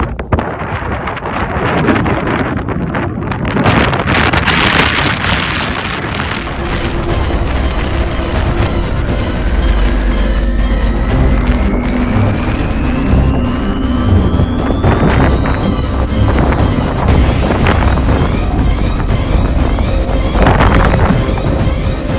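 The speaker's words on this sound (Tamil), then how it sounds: "விமானத்தை முன்னோக்கி செல்லவிடாமல் எதிர் திசையில் வீசும் பலத்த சூறாவளி காற்றிலிருந்து" Strong gusty crosswind buffeting an airplane during landing, a loud continuous roaring rumble with a slowly rising mechanical tone underneath and no voices.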